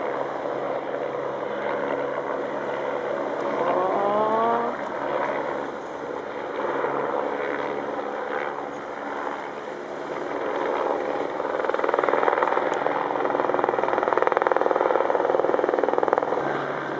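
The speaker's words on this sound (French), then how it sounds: "on va avoir le recours de l'hélicoptère de la section aérienne de Toulouse" Gendarmerie helicopter flying low overhead, a loud, continuous rotor and turbine roar that stays strong throughout and grows slightly louder near the end.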